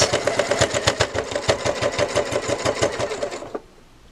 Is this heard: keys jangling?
no